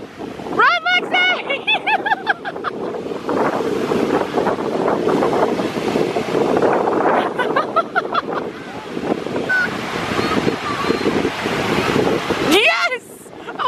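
Ocean surf washes and breaks on a beach at Cancun, a steady loud roar buffeted by wind noise, with shouting and excited voices over it.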